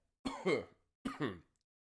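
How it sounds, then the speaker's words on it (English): Two short, rough coughs, each a pair of harsh bursts, close by with quiet gaps in between. "Sorry for the coughing."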